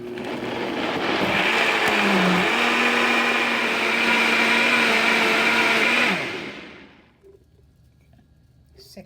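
A blender whirs loudly and steadily for about six seconds while blending jackfruit juice, its motor pitch rising once early on, then cuts off into near silence.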